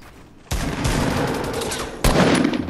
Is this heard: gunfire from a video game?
yes